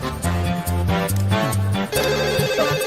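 A mobile phone rings loudly and continuously in a Telugu movie scene, its repeating electronic ringtone melody filling the whole stretch with short dips between phrases.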